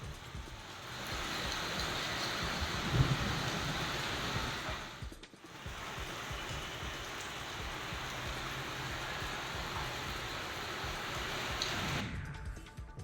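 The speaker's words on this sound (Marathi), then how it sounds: "अचानक वादळी वाऱ्यासह जोरदार पाऊस झाला" Heavy unseasonal rain falls with strong winds, a dense steady roar of rain on surfaces, briefly dropping near the middle and fading at the end, with no voices.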